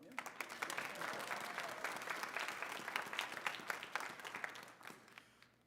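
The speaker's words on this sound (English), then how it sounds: "applaud for them" A convention audience applauds at a CONvergence 2021 closing ceremony, a steady, dense patter of many hands spread across the room, moderately loud and tapering off near the end, with a few voices mixed in.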